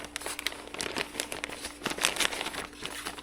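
Close, steady crinkling and rustling of a plastic bag as foam pieces are dropped inside, outdoors during a Texas cotton harvest, with irregular crackling bursts and no talk.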